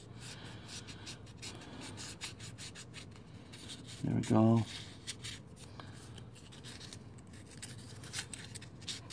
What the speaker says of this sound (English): See, it's sanding nicely.